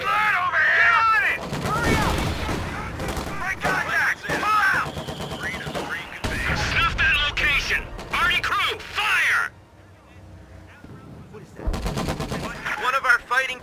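Battle in Company of Heroes 2's Ardennes Assault campaign at Ouren: dense rifle and machine-gun fire crackles for most of the stretch with heavy bursts and thumps, dropping to near quiet briefly before erupting again, under frequent shouted voices.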